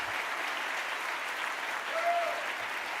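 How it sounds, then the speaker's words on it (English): An indoor audience at a Louisville mayor's State of the City address gives sustained applause for city snow team members, steady clapping from a large crowd heard at a moderate distance. "Let's have a round of applause for all of them."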